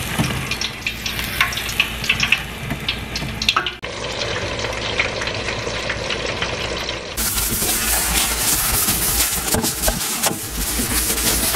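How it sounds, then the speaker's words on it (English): Tilapia frying in a pan gives off a steady, dense sizzle that carries on for the whole stretch and grows brighter and louder near the end, with no voices. "I have my tilapia cooking."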